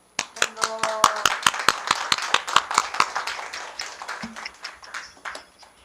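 Applause from an audience at an award ceremony for a regional community co-prosperity idea contest: a small group's distinct, evenly spaced claps, fairly close, growing denser and then tapering off, with a brief voice near the end.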